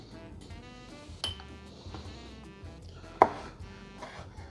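A knife chops pimentos on a board in quick, irregular taps, close and fairly crisp, with one louder knock of the blade partway through over a faint background hum.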